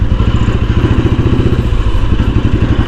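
A Royal Enfield Bullet motorcycle engine thumps loud and close in city traffic, its rapid, even low pulsing steady throughout with a slight clatter on top.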